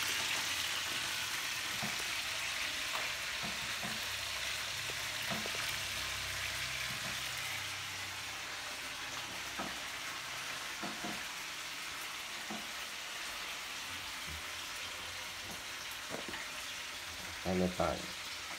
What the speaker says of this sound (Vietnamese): Nồi chiên không dâu